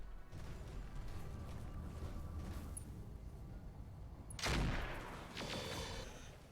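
Mech weapons fire an alpha strike at a turret in BattleTech, a steady rattling barrage followed by a loud crashing impact burst and further blasts.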